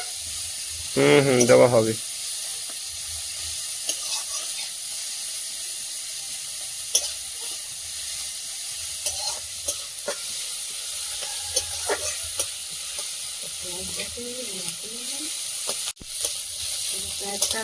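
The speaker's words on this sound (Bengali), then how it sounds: "পেঁয়াজটা ভেজে নিলাম" Onions fry in a pan in a home kitchen, giving a faint, steady high hiss of sizzling oil with brief stirring noises, while a voice speaks a few words early on and clattering sounds appear intermittently.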